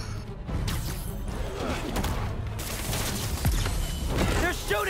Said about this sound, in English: They're shooting stuff at us.